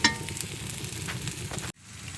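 Onions frying in a pan over a fire, a close, steady crackling sizzle that fills the clip before cutting off abruptly near the end, followed by quieter background.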